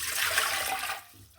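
Water poured into a pot for a Kerala-style dal curry with amara payar, a brief splashing, rushing pour that tapers off after about a second, close and alone.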